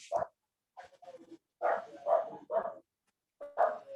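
Dog barking in a series of short, separated barks, five or six loud, close yaps spread over a few seconds with brief pauses between them, no talk alongside.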